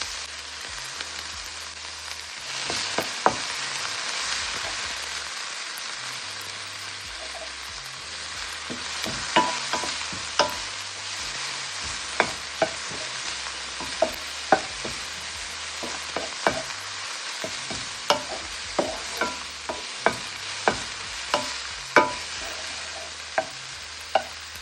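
Scallion, onion, thyme and pepper sizzle steadily in a pot while a utensil scrapes and clacks against the metal at irregular intervals, close and loud, with no voices.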